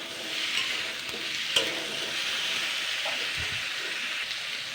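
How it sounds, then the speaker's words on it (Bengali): Drumstick (sajne data) stir-fried in a pan, a steady broad sizzle with occasional scrapes and clicks of stirring, close and continuous with no talking. "এই সজনে ডাঁটাটা জাস্ট আমি 2 থেকে 3 মিনিট নাড়াচাড়া করে নেবো"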